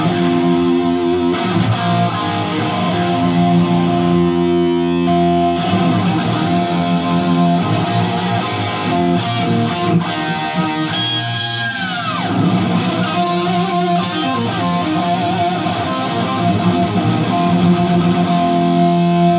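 Electric guitar run through a POG octave pedal, a thick, layered tone with added octave voices, played steadily and loud for the whole stretch with chords and sliding notes, no talking.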